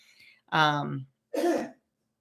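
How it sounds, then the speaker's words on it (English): A man clears his throat twice in quick succession, close and fairly loud, with short pauses between. "Clearing his throat."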